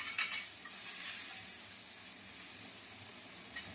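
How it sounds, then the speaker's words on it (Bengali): A spoon stirs spiced potato filling with cashews for singara in a hot pan, soft scraping and light sizzling close up, with no talk. "এটা দিয়ে ভালো করে নেড়ে নিই।"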